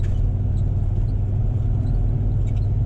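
A Chev LS1 V8 swapped into a Nissan Patrol idles steadily on gas after warming up, a continuous low rumble at constant level with no revving.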